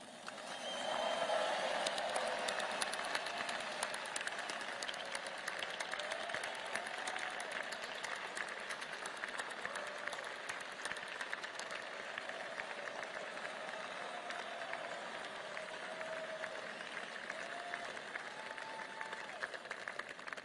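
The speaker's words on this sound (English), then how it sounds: "So please join me in a round of applause for our team." Audience at the Pentagon's B-21 Raider unveiling applauds the aircraft's team, a sustained wash of clapping with scattered whoops that starts loud and holds steady for about twenty seconds.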